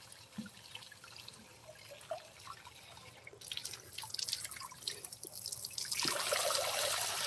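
Water running from a tap while hands are washed, starting as soft drips and sparse splashes, then building after a few seconds into a louder, steady close rush of running water.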